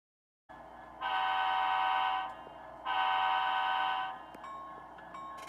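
An HO scale model train sounds its horn before departing: two long, steady, chord-like blasts with a pause between, then a quieter lingering tone.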